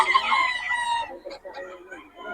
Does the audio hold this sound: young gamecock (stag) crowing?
yes